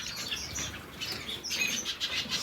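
Blue-faced parrot finches chirp and tweet in an aviary flight, thin high calls overlapping continuously at close to moderate distance, with a faint flutter of wings.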